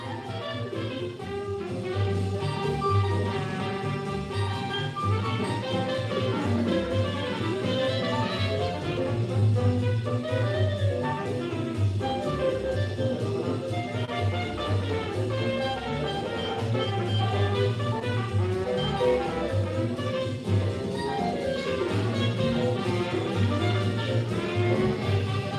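A jazz band plays the same song recorded in 1962, a dense full-ensemble performance with steady rhythm and layered horns running continuously at an even level, with no talking over it.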